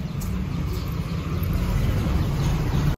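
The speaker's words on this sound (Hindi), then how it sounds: "गाड़ी आ रहा है।" A car passing on a road, heard as steady low rumbling road noise with a faint high whine throughout, moderately loud and close, ending abruptly.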